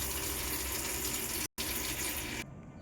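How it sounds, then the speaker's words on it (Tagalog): Tap water runs steadily into a container, a loud continuous gush broken by a momentary cutout midway and thinning near the end. "Una, maglagay naman na tayo ng tubig."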